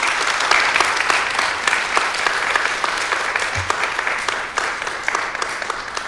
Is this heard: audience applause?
yes